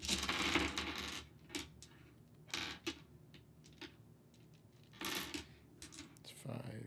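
Six dice clatter and tumble across a hard surface in several short bursts of sharp rattling clicks, close and fairly quiet, with pauses between rolls.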